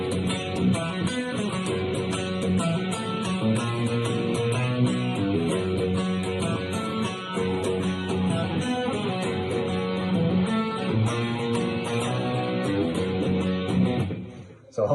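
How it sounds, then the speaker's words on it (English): A dark, menacing guitar riff repeats steadily for about fifteen seconds, full and loud with dense ringing notes, played alone without any talking. "I came up with this other really cool riff that sounds like this."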